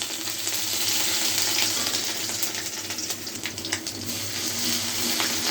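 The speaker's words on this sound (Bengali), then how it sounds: "আর দিয়েছি গরম তেলে গোটা জিরে" Whole cumin seeds dropped into hot oil give a steady, close frying hiss with crackles throughout, loud and continuous with no talking.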